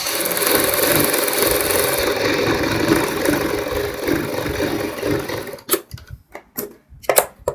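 Electric sewing machine stitching a seam along a kurti front neck, running steadily and loud for several seconds, then breaking into short stop-start bursts as the fabric is adjusted.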